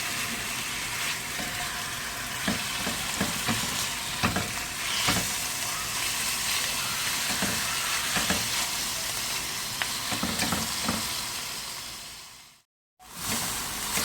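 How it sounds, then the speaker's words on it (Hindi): Chicken frying with ginger garlic in a pan makes a loud, steady sizzle with repeated stirring scrapes throughout, close and continuous, cutting to a brief silence just before the end. "और जिंजर गार्लिक के साथ चिकन को अच्छे से फ्राई कर लेंगे।"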